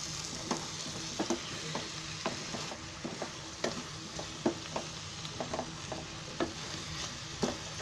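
Chopped bottle gourd frying in a pan while a spoon stirs it, with a steady soft sizzle under repeated sharp scraping clinks at an irregular rhythm, close and alone.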